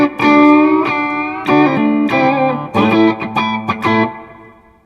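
Clean electric guitar tone from a Fesley FST-350M with a little reverb, several strummed chords ringing out in a close, loud phrase that fades at the end.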